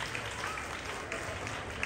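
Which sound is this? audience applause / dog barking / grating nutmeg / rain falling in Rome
audience applause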